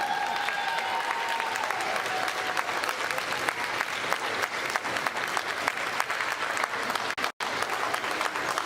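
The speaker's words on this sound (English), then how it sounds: "Let's give them another round of applause" Sustained crowd applause in a gym after a boys' basketball state third-place game in Illinois, steady and dense throughout, heard from a distance with a brief dropout near the end.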